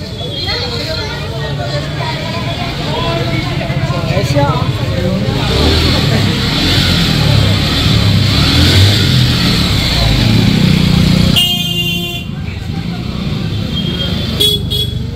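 A motorbike passes on a busy street near the Jagannath Temple. Horns toot and traffic rumbles nearby, and people can be heard talking.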